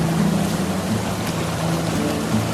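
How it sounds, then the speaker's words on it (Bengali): Water pouring down at Dainthlen Waterfalls in Meghalaya, a loud, steady, dense rushing roar that holds evenly throughout without any voices. "এই যে জলটা পড়ে যাচ্ছে,"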